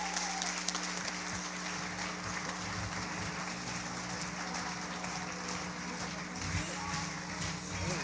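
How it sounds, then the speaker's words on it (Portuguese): A church congregation applauds in a worship service, a steady wash of many hands clapping at moderate level over a continuous low hum, without clear breaks. "E pode aplaudir a Jesus."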